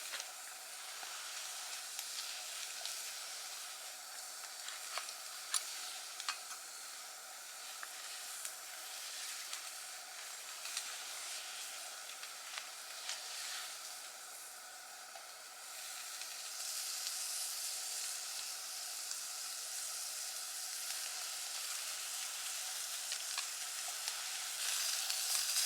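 A steak sizzles and fries steadily at an outdoor bushcraft cookout, with a bright continuous hiss and small pops throughout that grows slightly louder and fuller in the final stretch; nobody speaks.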